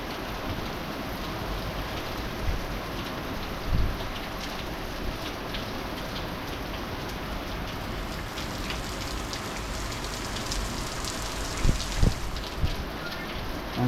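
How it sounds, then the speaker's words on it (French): Heavy thunderstorm rain pours at night over the Chartreuse in Liège, a dense, steady hiss of close downpour broken by a few soft low thumps. "Ah, c'est une bonne averse orageuse."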